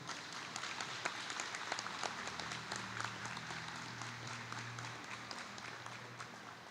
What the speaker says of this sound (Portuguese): Merece a nossa salva de palmas